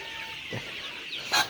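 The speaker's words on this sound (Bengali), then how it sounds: "দেখেন মোরগটা দেখেন" A young backyard rooster gives a few short, soft clucks, close by and moderately quiet, with a slightly louder cluck near the end and no talking.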